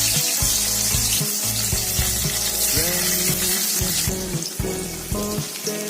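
Mustard seeds fry in hot sesame oil in a pan for a bitter gourd dish, giving a loud, continuous sizzle with rapid crackling pops and occasional stirring scrapes.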